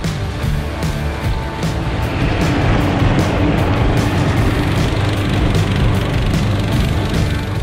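A Twin Track V14 tracked towing tug with twin tracks drives along, its engine giving a loud, steady, continuous roar that holds evenly throughout with no voices.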